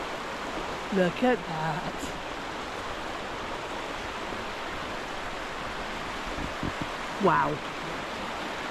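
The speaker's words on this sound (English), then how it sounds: "So the river's far gentler, yeah?" River flowing through the Aberglaslyn pass in Snowdonia, Wales, a steady broad rush of water heard from nearby, with brief exclamations from people over it.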